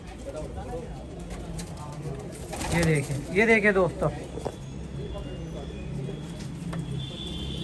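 Black Saharanpuri desi pigeons coo close by, low soft calls beneath a man's speech that swells loudly in the middle.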